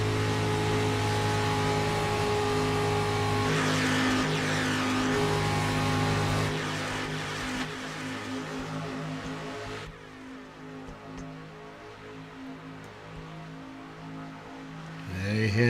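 Race cars roaring side by side down the back stretch in a racing game, a loud steady engine drone with rising and falling pitch that drops off sharply partway through, then a quieter rumble before swelling again at the end.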